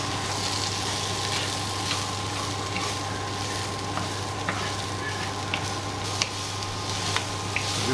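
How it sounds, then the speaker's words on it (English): Onions frying in a pan for a sausage casserole, a steady loud sizzle with small crackles and the occasional scrape of stirring, with no talking. "Now we want to start frying up our onion."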